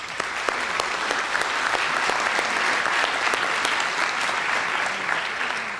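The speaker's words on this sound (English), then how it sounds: "please join me in another round of applause for our paid employees" Town meeting audience in Groton applauding town employees: a full, continuous round of clapping with crisp individual claps audible, sustained at a steady level from start to finish.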